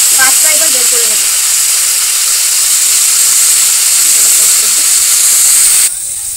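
Vegetables fry in a pan with a loud, continuous steamy hiss and sizzle that runs nearly unbroken, with a faint voice at the very start, then drops sharply in level near the end.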